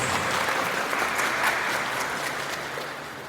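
Church congregation applauding right after a baptism, a dense, steady wash of clapping that fills the whole stretch and eases off slightly toward the end.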